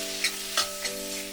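Tomato sizzles steadily in a hot pan for a green pepper gravy, with three quick stirring scrapes breaking through the frying hiss.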